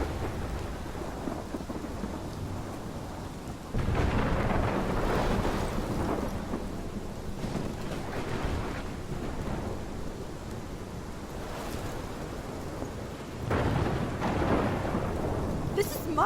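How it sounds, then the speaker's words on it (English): A thunderstorm from the video game Life is Strange, with steady heavy rain and deep thunder rumbles swelling louder twice, continuous and enveloping with no talk. "This is my storm."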